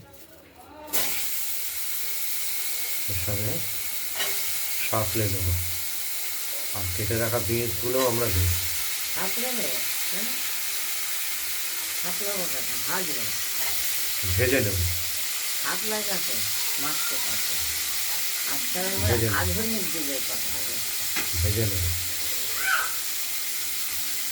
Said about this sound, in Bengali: শুকনো লঙ্কা তেজপাতা জিরে এগুলো দিয়ে ফোড়ন দিয়ে আমরা কি করব ওই কেটে রাখা আলুগুলো